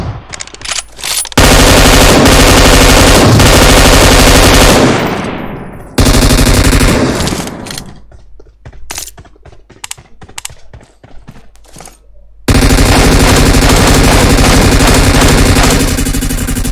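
Sustained bursts of rapid machine-gun fire in a squad battle-royale shooter game, loud and close, broken by short pauses and a stretch of sparse single shots before another long burst.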